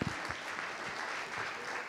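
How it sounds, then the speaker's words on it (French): Steady, dense applause from a crowd at a business pitch event, continuous clapping throughout at a moderate distance. "On applaudit Unibail Rodamco, Mathieu et Élodie."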